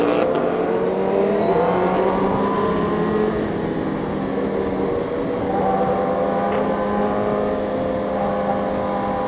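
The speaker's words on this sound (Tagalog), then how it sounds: "May motor na." A Suzuki GSX-R1000R motorcycle on a long group ride, with a loud sustained engine drone, wind rush and shifting rising and falling engine tones throughout.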